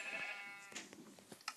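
A sheep in Minecraft Pocket Edition lets out a wavering bleat, faint and close, followed by a few soft game clicks and thumps.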